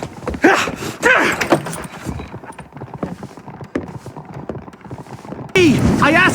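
Horses clip-clop in Red Dead Redemption, hoofbeats thudding under character speech and dialogue, near and moderately loud.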